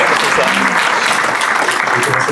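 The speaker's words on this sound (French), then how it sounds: "Il faut toujours applaudir son président de département." An audience at a public meeting on elderly care applauds in a steady, close burst of many hands clapping, with some voices murmuring underneath.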